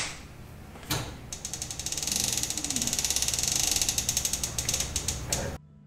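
A fishing reel's ratchet clicker chatters in a fast, steady run of close, loud clicks as line is cranked in while high-speed trolling for wahoo, stopping abruptly near the end.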